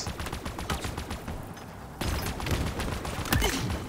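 Automatic gunfire in the video game Halo Infinite: a dense, fast rattle of shots that breaks briefly and then comes back louder and continues without a pause.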